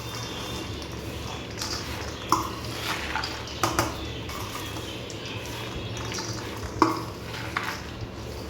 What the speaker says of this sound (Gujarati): હવે આપણે આને મિક્સ કરી લઈશું.